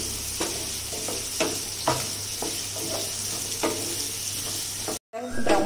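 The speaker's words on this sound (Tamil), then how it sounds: "ப்ரௌன் ஆகிற அளவுக்கு வெங்காயம் போட்டு வணக்கிக்கணும்" Onions fry in oil for chicken gravy, a steady sizzle broken by regular stirring scrapes about once a second, then a brief cut before the sizzling resumes.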